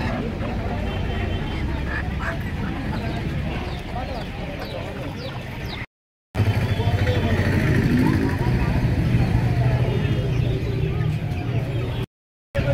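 Sonali chickens clucking at the Uluberia poultry market, scattered bird calls amid busy market bustle and passing traffic, mostly under steady nearby talking.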